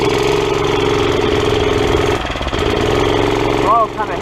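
A mini bike engine runs with a rough, rapid putter close by, dipping briefly midway and then returning, before a short rising rev near the end; a voice talks over it.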